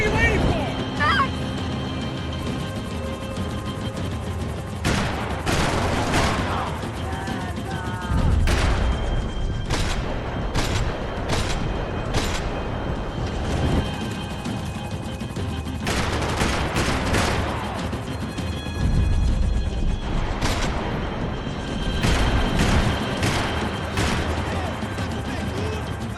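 Gunfire in the Max Payne 3 game, repeated bursts of shots and rapid automatic fire cracking through a loud chaotic scene, with voices shouting over the shooting.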